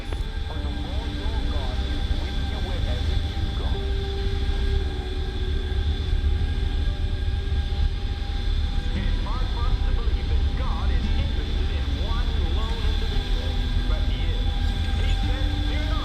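Steady loud roar of a Boeing 737-800 jet in Microsoft Flight Simulator, filling the whole stretch with a constant engine drone and faint tonal whines, while radio voices talk over it.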